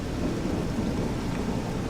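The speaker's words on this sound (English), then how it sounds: "Now it's raining on top of it." Steady rain with rolling thunder from the Little Orpheus video game, a dense, continuous wash of rumbling storm noise that stays loud and even throughout, with no voices.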